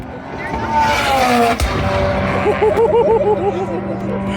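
A race car roars past at high speed at a time trial speed festival, its engine note rising and falling sharply, loud and close.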